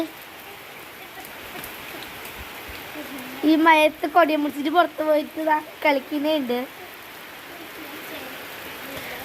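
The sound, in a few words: heavy rain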